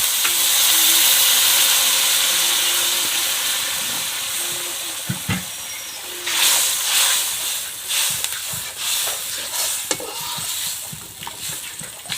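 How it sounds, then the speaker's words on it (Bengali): Hot water hits the fish curry masala of tomato and spices in a hot pan, giving a loud, close rush of hissing steam that eases off into bubbling sizzle, with a few sharp utensil knocks and scrapes. "আমি এখানে গরম জল দিচ্ছি।"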